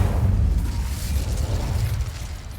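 Incendio fire spell in the Hogwarts Legacy video game, a sustained roaring whoosh of flame with deep rumbling low end, loud and steady for a couple of seconds without speech.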